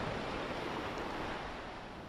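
Small ocean waves wash onto Patong beach in Phuket at early morning, a steady broad surf wash with some wind, no voices.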